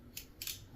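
Two quick, crisp clicks from the lever of a Babyliss Tomb45 hair clipper, close and fairly faint in a quiet room.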